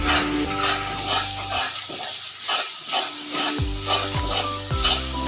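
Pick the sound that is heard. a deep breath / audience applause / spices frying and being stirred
spices frying and being stirred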